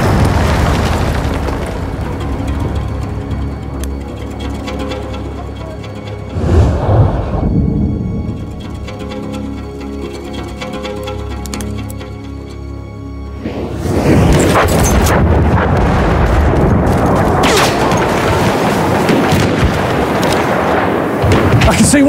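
Artillery fire and explosions in a Battlefield battle: heavy booming blasts with a loud burst around the middle and a sustained roar of impacts toward the end, with voices calling out in the background.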